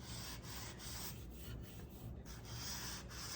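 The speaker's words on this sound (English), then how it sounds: "just give it a quick sanding here" Quiet, steady rubbing strokes as 220 grit sandpaper is worked by hand over cured epoxy resin drips on the underside of a lazy susan, a soft continuous scratchy hiss with gentle rhythmic pulses and no talking.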